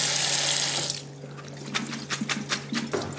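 Cold tap water gushes over pasta in a strainer at a kitchen sink, a bright steady rush that cuts off partway, leaving quieter splashes, clanks of the strainer and drips close by.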